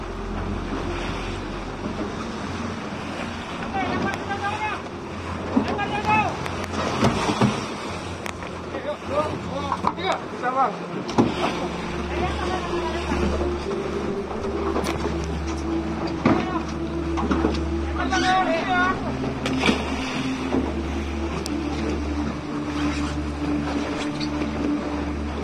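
A small boat's engine runs at sea, a low steady drone mixed with waves slapping the hull and gusting wind on the microphone, with voices talking intermittently over it.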